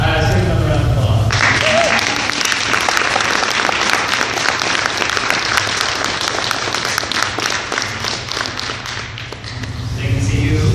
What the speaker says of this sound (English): Let's take another round of applause.